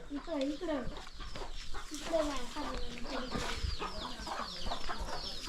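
Chickens cluck repeatedly, close by, with outdoor background noise throughout.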